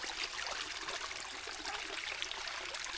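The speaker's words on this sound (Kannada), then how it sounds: "ನೀರು ಜೋರಾಯಿತು" A stream of water flows strongly outdoors, a steady, even rush of broadband hiss that stays fairly faint and unbroken throughout.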